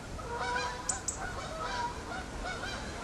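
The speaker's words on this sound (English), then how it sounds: "The Canada geese are setting off." Canada geese honking in a few distinct calls over steady wind noise outdoors by the lower River Severn in floodwater, the birds moderately distant and taking off.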